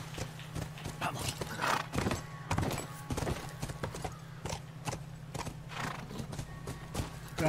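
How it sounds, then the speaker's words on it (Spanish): A horse in The Last of Us gallops with loud, rhythmic hoofbeats throughout and lets out a whinny along the way, with no speech over it. "vamos a subirnos al caballo"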